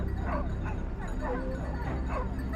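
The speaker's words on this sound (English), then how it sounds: "our loyal hunting dogs, the indispensable partners in any boar chase" Hunting dogs bark and yip in repeated excited bursts during a wild boar chase in Texas fields, the calls fairly close over a dense, busy background with no clear talk.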